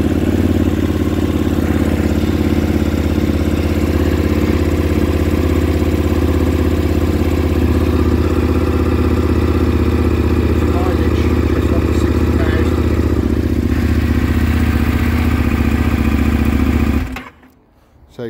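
A used motorcycle that has recently had head bearings, wheel bearings and a big service replaced or done runs steadily with a low, even engine drone for about seventeen seconds, then cuts off abruptly near the end.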